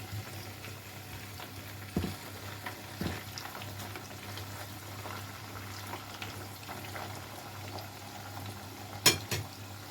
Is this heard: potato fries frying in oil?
yes